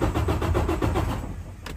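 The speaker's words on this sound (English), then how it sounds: "You can already hear the difference when it cranks." A Detroit DD13 diesel engine in a Freightliner Cascadia cranks over with a steady, rapid rhythmic chug that runs loud for about a second before easing off, heard alone without talk.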